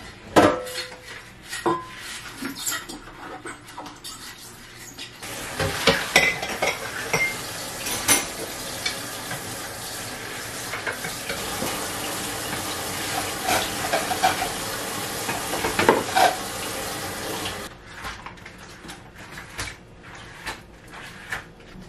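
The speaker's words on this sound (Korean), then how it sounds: "설거지를 다 했으니" Dishes are washed at a home kitchen sink, with running water and repeated clinks and clatters of plates, pots and cutlery close by. The sounds are fairly quiet and continuous, then ease off near the end, with no talk.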